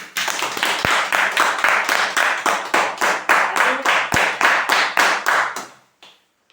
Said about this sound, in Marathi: चला एकदा जोरदार टाळ्या वाजवा स्वतःसाठी